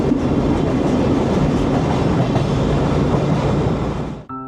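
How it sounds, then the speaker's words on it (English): The old-fashioned Sagano scenic railway train rumbles loudly and steadily along the track through the Hozugawa River Gorge near Arashiyama, wheels clacking over rails before the noise drops away abruptly at the end. "This old-fashioned scenic railway runs from Saga Torokko Station in Arashiyama to Kameoka, winding through the beautiful Hozugawa River Gorge."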